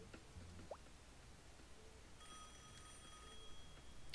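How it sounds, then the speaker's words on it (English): Telephone ringing in the Rhythm Thief video game: a faint electronic ring with bright tonal bursts over a quiet, hissy background, preceded by a small chirpy blip, with no voices. "Phone ringing."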